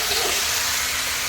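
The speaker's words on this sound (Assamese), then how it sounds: "মই এতিয়া আলু ভাজি আছোঁ" Potatoes frying in a pan, a steady close sizzle and hiss with no talk over it.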